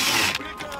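A hand tool ratchets briefly while screws are backed out of a van's vent cover, giving a short, close, loud clicking burst followed by fainter mechanical sounds.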